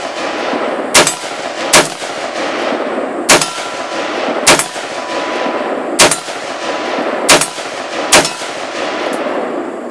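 Seven sharp, loud shots from an AR-15 rifle in .223/5.56 fitted with a Mechforce muzzle brake, fired at uneven intervals outdoors, each crack followed by a brief ringing decay over a steady background hiss.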